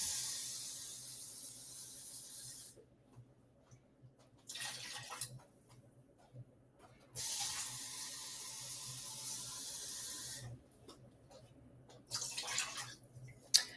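Water runs from a tap into a container in a kitchen where beef stew is being cooked, a soft steady hissing flow that starts and stops several times, faint and close with no talk.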